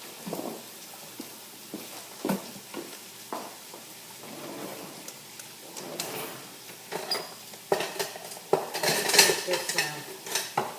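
A spoon stirs a large batch of onions in a pan on a stove, scraping and clinking against the metal in irregular bursts that grow louder toward the end, with a brief word spoken over it.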